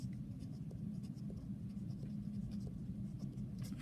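Pen or marker writing out a radical expression by hand during a math lesson on simplifying radicals, giving soft continuous scratching strokes close up over a steady low background hum, with no talking.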